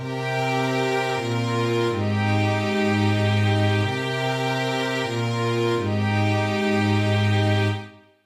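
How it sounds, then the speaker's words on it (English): Lush synthetic string chords sustain and shift smoothly from one to the next, warm and steady, ending with a quick fade. "I really wanted to get like an old school housey string sound"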